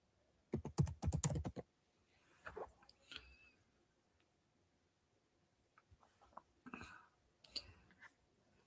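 Bursts of computer keyboard typing, quick clustered keystrokes in several short runs separated by pauses, fairly quiet and close.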